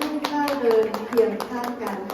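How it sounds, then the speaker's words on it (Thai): Applause at a Thai wedding in Kalasin province welcomes the bride, a steady run of close hand claps under a voice speaking over a microphone. "เสียงปรบมือต้อนรับ สาวที่ สุดต่อและเจ้าสาวของเราในวันนี้ค่ะ"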